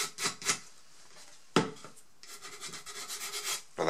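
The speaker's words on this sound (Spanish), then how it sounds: "rozamos la parte que va por el borde para que se quede bien pegada" A stick rubs along the edge of a photo mounted on canvas, pressing it down before resin is poured, giving short faint scraping strokes in irregular bursts close by, with no talk.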